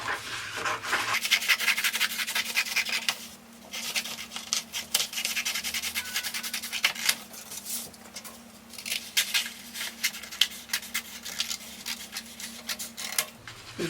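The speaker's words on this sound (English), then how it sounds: "So I will cut this out and then transfer it to the fabric." Scissors cutting out a paper sewing pattern for a corset blouse, a steady close papery rustle and snipping with brief pauses, no talking.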